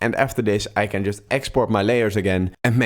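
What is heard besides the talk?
No everyday noises stand out.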